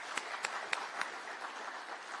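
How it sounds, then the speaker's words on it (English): Audience clapping for CCI Global at the launch of a contact centre, a few sharp claps standing out over a soft, thin wash of applause from a modest crowd. "round of applause for CCI Global and everything that you have done here"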